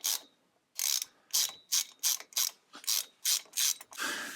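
A ratchet loosens driveshaft bolts on a Jeep TJ during pinion seal work, giving about ten quick, crisp clicking bursts in a steady rhythm, close up with no voices.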